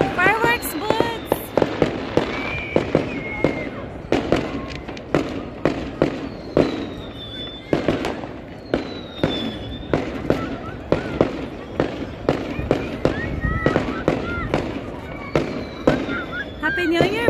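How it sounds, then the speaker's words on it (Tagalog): Loud New Year fireworks and firecrackers bang repeatedly in a dense, uneven rhythm, mixed with whistling rockets, as voices call out and celebrate over the blasts. "Fireworks buds!"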